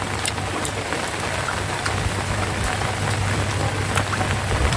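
Steady rain falling on a rice field, a dense even hiss of drops with occasional closer patters, continuous throughout with no talk.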